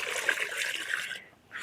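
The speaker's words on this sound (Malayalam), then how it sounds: "കുറച്ചും കൂടി ഒഴിക്കണേ" Diluted organic liquid fertilizer slurry is poured onto vegetable plants, making a close, soft, continuous trickling splash that fades out briefly and then resumes, with no talk.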